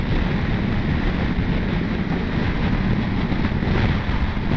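Strong wind roaring past a rider on a Ducati Multistrada motorcycle, a steady, heavy low rumble of buffeting air against the helmet microphone, constant and loud with no break.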